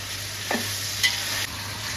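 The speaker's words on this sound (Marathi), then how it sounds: "आलं लसणाची पेस्ट टाकलेली आहे. छान परतून घ्यायची तेलामध्ये." Ginger-garlic paste and onion sautéing in hot oil for spiced masala rice, a close, steady sizzle with a couple of brief stirring scrapes.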